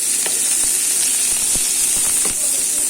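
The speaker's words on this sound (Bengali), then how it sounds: "এরপর পেঁয়াজ কুচিগুলো ছেড়ে দিলাম" Chopped onions sizzle steadily in hot oil tempered with black cumin seeds, a dense continuous hiss with a few soft stirring knocks near the mic.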